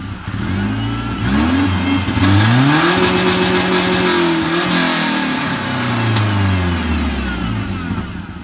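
A Mercedes 190E's M102 engine on E-Jetronic injection revs hard up to the rev limiter, holds there with stuttering cutoff, then drops and climbs again, loud and close.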